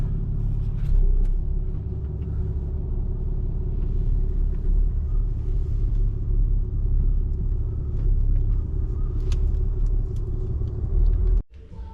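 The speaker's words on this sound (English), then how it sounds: "Already got the big salt trucks out prepping the roads." A big salt truck without a plow rolls along a road during a snowstorm, its engine a steady, heavy low rumble that holds throughout, closing with an abrupt cutoff.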